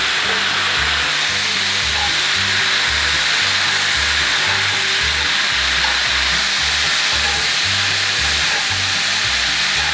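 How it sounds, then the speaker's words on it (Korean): Shredded cabbage stir-fried in a pan after soup soy sauce and tuna sauce go in, a steady loud sizzle with rhythmic scraping and stirring running continuously throughout, no voices. "양배추를 넣고 볶아줍니다"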